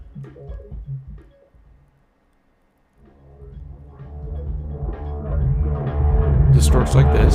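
Distortion effect from an audio plugin: after a brief sound and a silent gap, dense, gritty distorted audio swells steadily louder and harsher, with bright crackling bursts near the end.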